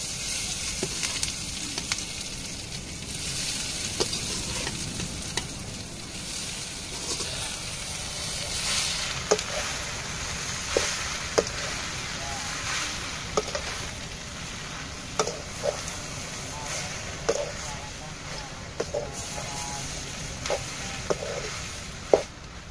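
Fish puttu is stirred together with onions in a frying pan, a soft, continuous sizzle under repeated scraping and tapping of a spoon against the pan, growing slightly more frequent toward the end, with no speech.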